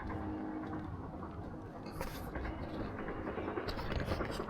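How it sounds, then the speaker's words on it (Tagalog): A train rumbles past nearby, a steady low roar with rail clatter and brief bright hiss building toward the end. "nirinig ko yung tren."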